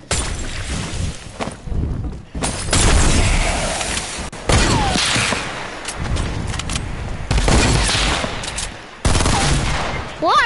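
Rapid bursts of gunfire in Fortnite, loud and close, coming in several clustered volleys with brief gaps over ten seconds of continuous combat noise.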